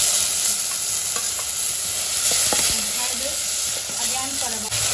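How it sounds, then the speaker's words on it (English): Tomato dropped into frying onions in a pan for Goan red snapper coconut fish curry, making a loud continuous sizzle and hiss with occasional soft stirring scrapes, close up. "Okay, now goes in the tomato."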